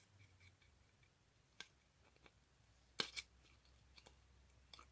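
Scissors snip through paper while cutting faux stamps, giving a couple of soft, close clicks near the middle of an otherwise quiet stretch.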